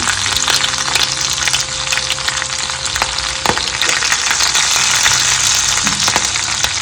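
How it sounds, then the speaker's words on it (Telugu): Onions frying in a pan for a sago upma, a steady loud sizzle with occasional stirring scrapes, continuous and close with no talking. "వేసుకున్న తర్వాత కొంచెం ఫ్రై చేసుకోవాలి."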